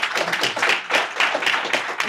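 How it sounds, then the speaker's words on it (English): Scattered clapping from a modest audience at a National Federation of the Blind town hall meeting, uneven and fairly close, rising and dipping over about two seconds with no voices over it. "So let's give them another round of applause,"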